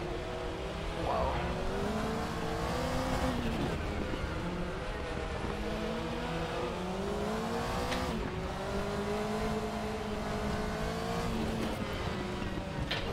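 Group C race cars in the RaceRoom video game, including a Porsche, roaring engines rising and falling through gear changes as they race closely, a loud continuous drone with passing whooshes, and no talking.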